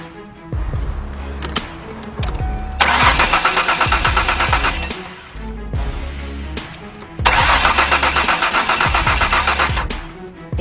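A car engine cranks but will not start, the starter whirring in two long bursts of rapid rhythmic churning, each preceded by a click and brief pause, loud and close.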